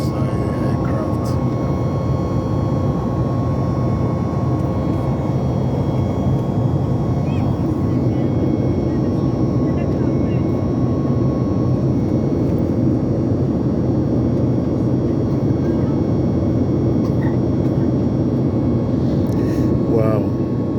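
Steady, loud engine drone and airflow rumble fill an airliner cabin in flight over the Atlantic Ocean, continuous and unchanging throughout, with faint voices in the background.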